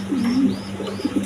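A pair of large pigeons, a male and a house pigeon female, coo close by: a low, rolling coo that swells briefly, then short softer notes.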